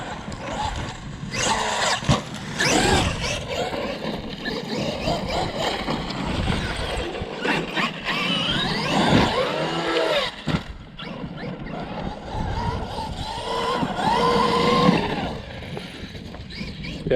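A Traxxas XRT RC truck with an earplugged center diff is driven hard, its electric drivetrain whining and surging in bursts that rise and fall as it accelerates and lands jumps close to the recorder.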